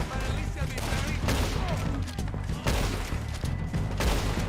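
Repeated gunshots crack in Red Dead Redemption 2, loud close bursts of fire throughout a Wild West shootout, with a voice talking over parts of it.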